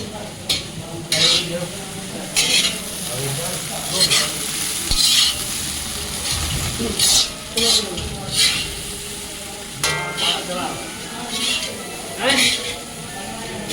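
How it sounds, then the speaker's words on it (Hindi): At a roadside dhaba, a spatula stirs poha mix in a hot pan, scraping in repeated rhythmic strokes over a steady sizzle, with voices nearby. "ये रहा पोहा मिक्स, आप इसको चलाइए।"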